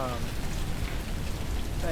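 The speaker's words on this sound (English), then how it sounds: "this is some big hail" Hail pelting a vehicle during a storm in the Roblox game Twisted, a dense continuous rattling patter heard steadily throughout with a faint tonal game sound at the edges.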